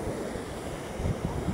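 Steady rush of wind-driven sea surf and wind blowing across the microphone on the La Union coast, a continuous low roar with a few swells of louder wave wash.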